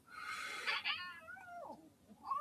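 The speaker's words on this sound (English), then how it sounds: "The cat's pissed off." A cat meows angrily in a loud, drawn-out wail with falling, bending tones, followed by a shorter cry, close and alone.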